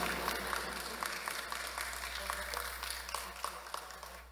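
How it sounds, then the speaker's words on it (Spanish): Steady applause rises for the Divino Salvador del Mundo during the 2022 Bajada procession, a dense crowd clapping continuously for several seconds amid a faint hum and some scattered voices. "Regalémosle fuerte aplauso al divino Salvador del mundo."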